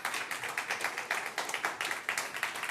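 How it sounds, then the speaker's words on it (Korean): A small church group claps in a steady, rhythmic pattern, the claps quick and evenly spaced, moderately loud with no voices over them. "우리 한번 박수하겠습니다."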